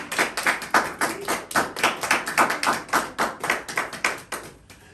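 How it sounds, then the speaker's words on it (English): A church congregation claps together in praise for the Lord, delivering a steady run of sharp, evenly spaced claps about four per second that ring through the hall, then stops, with no speech over them. "we clap for the Lord"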